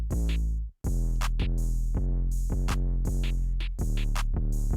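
Trap-style drum loop built from a booming 808 bass, ticking hi-hats, a sharp clap and a snare, hitting in a steady repeating rhythm with a brief dropout near the start, loud and alone.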